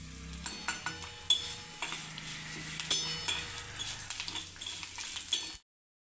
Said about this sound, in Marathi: थोडंसं परतवू आणि हिंग घालून घेऊ 1 पाव चमच।